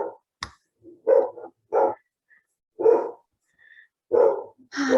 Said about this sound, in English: Clearly, my dog in the background